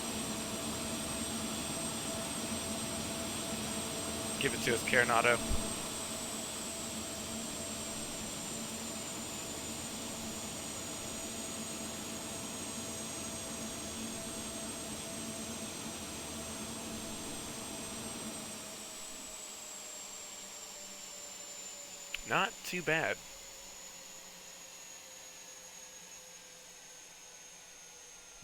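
The engines of a Premier 1A business jet wind down in a flight simulator game, a steady high whine that gradually fades and drops away, with brief bursts of a voice talking over it.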